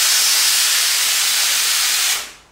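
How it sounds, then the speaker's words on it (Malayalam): A kitchen pressure cooker's whistle vents steam in a loud, sharp, continuous hiss close by that cuts off and fades after about two seconds. "കുക്കർ വിസിൽ വന്നു, ഒറ്റ വിസിൽ മതി നമുക്ക് ഓഫ് ചെയ്യാൻ."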